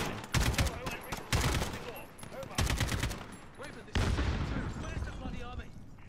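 Bursts of automatic gunfire and explosive blasts from the video game Call of Duty: Modern Warfare (2019) crackle in loud repeated volleys, close and dense, with voices speaking in between.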